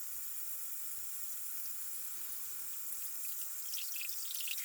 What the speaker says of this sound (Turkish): Öncelikle malzemeleri yıkayarak hemen haşlamaya alacağım.